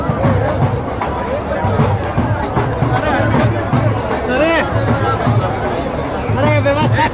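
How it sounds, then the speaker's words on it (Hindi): Crowd of party workers gathered at a farm event in Haryana, a loud continuous babble of many overlapping voices close around, with shouting and chatter throughout and no single clear speaker. "इतनी भीड़ है"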